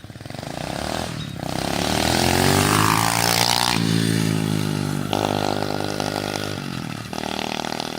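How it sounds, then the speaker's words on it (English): A 125 cc mini dirt bike runs at wide open throttle in a high-speed pass, its loud buzzing engine climbing in pitch through several gear shifts, with brief dips between gears. "Got one good high-speed pass, wide open throttle."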